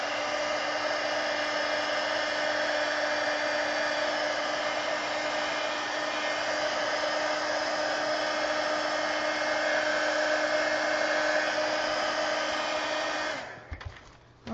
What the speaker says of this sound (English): I'm going to get my heat gun here and just dry this.